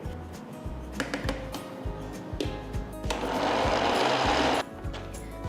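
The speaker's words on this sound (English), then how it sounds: "we're going to grind everything to a nice doughy consistency" A mixer grinder whirs as it grinds leftover rice into a dough, starting in short pulses and then running in one steady, loud burst before stopping.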